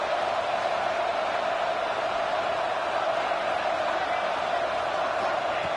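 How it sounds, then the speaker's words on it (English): Crowd noise fills a football stadium during a game, a dense, steady roar that holds at an even level throughout with no distinct voices standing out. "Listen to this crowd noise. This stadium is vibrating."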